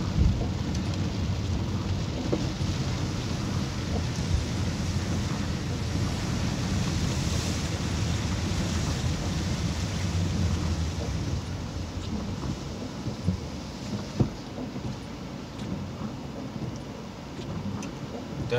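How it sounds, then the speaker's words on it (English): A heavy July rain downpour falls over a city street in Dover, Delaware, a dense continuous roar lasting throughout with a rumbling low undertone and occasional sharp splashes or knocks. "Definitely a heavy downpour today."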